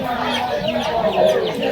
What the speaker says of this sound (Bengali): মাশাআল্লাহ মুরগির বাজার।